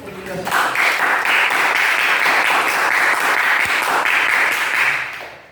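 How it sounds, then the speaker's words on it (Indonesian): Students in a classroom teaching session clap together after a chemistry lesson on chemical changes, a sustained burst of close applause that begins just after a brief voice and tapers off at the end. "Tepuk tangan dulu."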